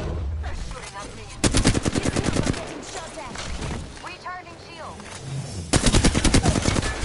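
Rapid bursts of automatic gunfire from the Apex Legends video game, several loud clustered volleys with pauses between, under in-game voice lines and chatter.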